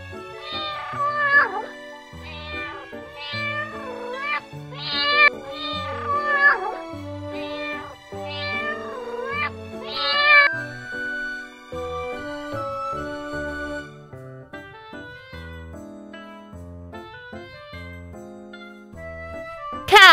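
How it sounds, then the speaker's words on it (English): A cat meows repeatedly in short, wavering calls that rise and fall, fairly loud and close, with a musical backing running underneath in a children's domestic-animals lesson. "Cat, C-A-T, cat."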